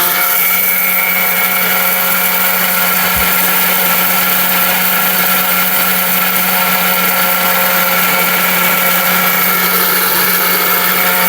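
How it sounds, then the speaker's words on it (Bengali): A powerful steel blender grinds half a kilo of turmeric, running as a loud, steady high-pitched whir with a constant motor hum throughout, close and uninterrupted. "আমি হলুদ গুঁড়া করবো এই ব্লেন্ডারের মধ্যে"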